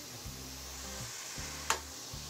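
Mutton trotters go into hot oil and fried spice paste, giving a faint, steady sizzle with one brief clatter as they land in the pan.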